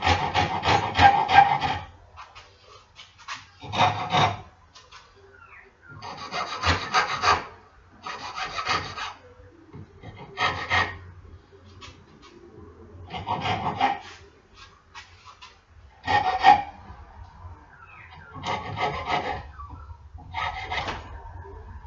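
Sandpaper rubbed over a wooden chess king piece, heard as loud, close, scratchy rasping strokes in repeated bursts separated by short pauses, with no talk.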